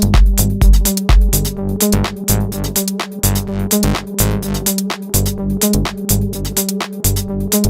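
A loud, dense techno loop made in FL Studio 20.9, with punchy beats and a bright synth pulsing in steady rhythm as its filter opens up, no voices.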